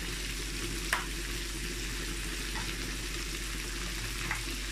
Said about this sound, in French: je vais mettre un peu d'eau ici et laisser mijoter 10 à 15 minutes